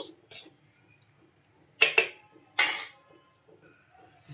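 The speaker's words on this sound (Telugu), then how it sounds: "ఇంక ఇప్పుడు ఇల్లంతా బాగా కలిపేసుకోవాలండి" A spoon scrapes and clinks against a bowl while stirring rava idli batter made from semolina and water, giving a few sharp metallic bursts between quieter scraping.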